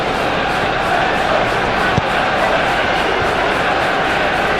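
A steady, dense stadium crowd roar from the video game PES 21 during a Newcastle United versus Arsenal match, loud and unbroken with one brief thud.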